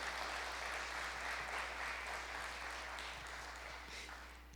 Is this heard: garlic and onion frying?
no